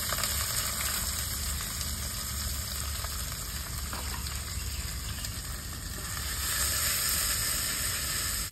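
Black cumin, two dried red chillies, whole cumin and chopped onion frying in hot oil for a sour fish curry, a dense, continuous sizzle and hiss that stays steady and close, swelling slightly near the end.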